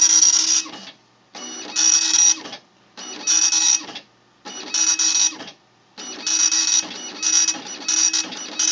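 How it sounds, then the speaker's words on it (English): A Panasonic KX-P1624 24-pin dot matrix printer prints a test page in loud, close buzzing bursts, one line at a time, separated by short regular pauses, with no talking. "it's printing the Windows XP test page."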